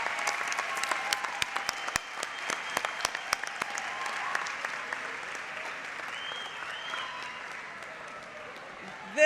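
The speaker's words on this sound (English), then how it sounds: "A round of applause for our first graduating class of virtual middle college program." An audience claps for the first graduating class of a virtual middle college program at a dual enrollment recognition ceremony, sustained applause with sharp individual claps that gradually thins out.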